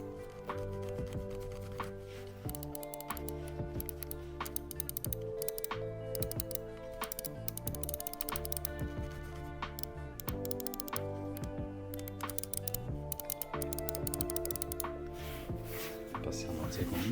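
Keys on a Gretxa keyboard are pressed one after another, giving a steady run of sharp clicks under a faint background hum.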